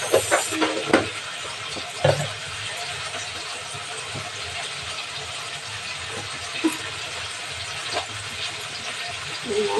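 Potatoes and cauliflower fry in a pan in a home kitchen, giving a steady sizzle with scraping and stirring clatter throughout while someone talks over it.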